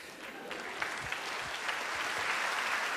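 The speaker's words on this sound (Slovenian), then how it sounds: "ta aplavz je že bolj medl. Ta aplavz ni aplavz navdušenja" Lukewarm applause from a televised awards audience, a thin, even patter of many hands heard somewhat distant, holding at a modest level without cheers or voices.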